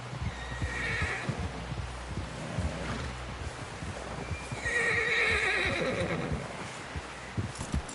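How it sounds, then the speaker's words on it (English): In the video game Red Dead Redemption 2, a horse whinnies twice, shrill and fairly close, over a steady clip-clop of hooves and a low rumbling background. "Someone help John down off this horse."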